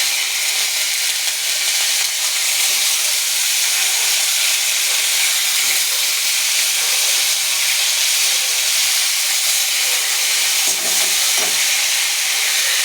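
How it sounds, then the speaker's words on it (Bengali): Tomato goes into hot oil already spiced with panch phoron, a bay leaf and a dried red chili in a home kitchen pan. A loud, continuous sizzling hiss fills the whole stretch. "তো এখন আমি এই যে টমেটোটা দিয়ে দিচ্ছি।"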